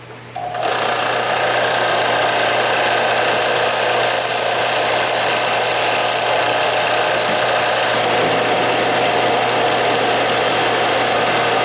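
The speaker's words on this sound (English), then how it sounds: "I can use the round edge of the sanding belt here to sneak up on my little edges here." A belt sander whirs continuously at high speed, a loud steady mechanical whine with a grinding abrasive hiss as the round edge of the belt works against the wooden edges of a round cribbage board.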